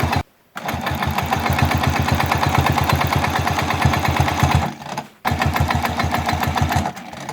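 A sewing machine doing free-motion quilting on a wholecloth baby quilt: steady rapid needle stitching, loud and close, with brief stops at about half a second and around five and seven seconds as it is repositioned.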